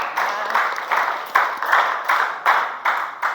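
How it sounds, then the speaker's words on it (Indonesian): A classroom of students applauds for a fellow student during a guidance lesson, a steady burst of hand clapping with rhythmic swells and dips lasting a few seconds. "Tepuk tangan dulu untuk Vera"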